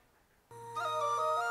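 A phone ringtone cuts in abruptly after a near-silent start: a bright, loud electronic melody of layered sustained tones that grows fuller as it plays.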